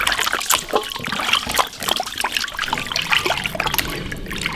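Running water splashing and trickling as pork tripe is rinsed under a tap, close and uneven with irregular sloshes and handling noises throughout.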